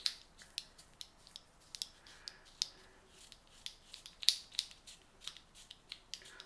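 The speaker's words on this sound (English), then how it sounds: "when you hear it clicking like that, that's almost where the head just springs flat" A Mr G Shave No200 Focus Dynamic razor head clicks sharply while shaving at close range, a string of irregular crisp clicks and scraping rasps over roughly six seconds with no speech.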